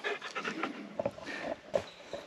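A dog pants in quick, close, breathy bursts at a lakeside spot where a pack boat is being unloaded, the rapid huffs fairly quiet and uneven, with no talking over them.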